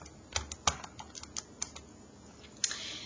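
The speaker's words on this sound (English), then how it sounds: "Remember to type that percent sign in your calculator if you're using that." Keys being tapped on a calculator keypad during a tax and tip calculation, a run of quick, light, close clicks in an uneven rhythm with no voice.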